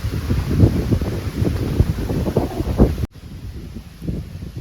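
Outdoor wind buffeting the microphone in a rural field by a small hut, a steady roaring rush that cuts out abruptly partway through, leaving quieter rustle with a brief gust returning.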